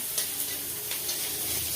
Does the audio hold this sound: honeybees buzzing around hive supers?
no